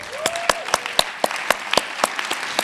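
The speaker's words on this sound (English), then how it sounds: "please give yourself a round of applause" Audience applause at an arts awards ceremony, heard as a small group's evenly spaced, crisp claps, fairly close and clear, with little crowd noise between them.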